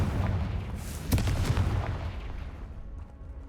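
A Confringo fire spell in Hogwarts Legacy bursts with a sharp explosive crack followed by a rumbling, fading boom, moderately loud amid game ambience.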